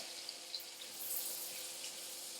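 Butter melting in a hot pan for banana, coconut and spice crêpes, giving a steady, soft hiss of fine sizzling and bubbling with a few small pops, close and alone.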